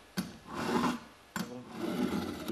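A file rasps across the cutting teeth of a chainsaw chain as it is sharpened, two distinct scraping strokes, each starting with a sharp hit and fading, close and fairly quiet.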